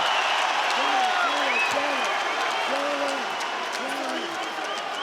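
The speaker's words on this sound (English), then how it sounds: "the crowd respond" A crowd at an MMA title fight roars and cheers steadily while a commentator talks over the noise, the cheering easing slightly toward the end.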